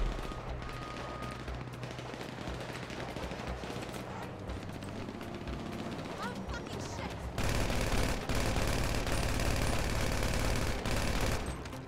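Gunfire in GTA V during an online crew session: dense rapid bursts and crackling shots over a busy game soundscape, growing louder and more continuous partway through, with no talk.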